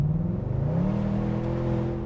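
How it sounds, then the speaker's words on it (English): A BMW 650Ci V8 revs with a deep exhaust note, its pitch climbing steadily and holding up close and loud throughout, with no talk over it. "to be able to hear that exhaust note"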